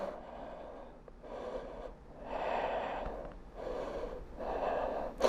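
Deep rhythmic breathing during a gentle beginner home yoga backbend session, three or four slow breathy cycles of inhale and exhale, close and moderately loud with no talking.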